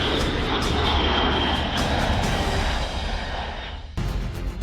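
Kawasaki C-2 military transport jet flying overhead, a loud, steady broadband engine roar that dips slightly toward the end before surging again, with no voices.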